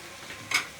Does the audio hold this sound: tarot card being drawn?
no